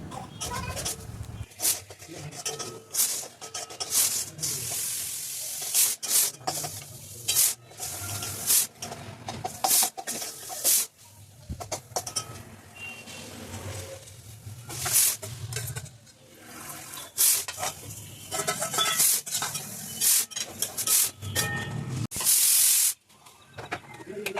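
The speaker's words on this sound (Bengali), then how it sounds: "এই টমেটোটা দিয়ে টমেটো, আদা বাটা, লবণ, হলুদ দিয়ে কষিয়ে দিয়ে ডালটা দিয়ে দেবো" Tomato, ginger paste, salt and turmeric sautéing in a pan, with repeated scraping and rubbing strokes of a spatula over a soft hiss, uneven and close, with a few faint voices in the background.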